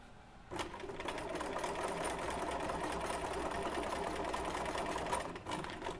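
Sewing machine running steadily for several seconds as it stitches a quarter-inch seam on a quilt sampler block, a continuous close whir after a brief start, with no talk.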